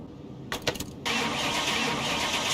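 A Porsche Carrera engine starts in the video game Car Mechanic Simulator 21, with a short stuttering crank and then a steady idle that settles in, close and fairly loud, with no voices.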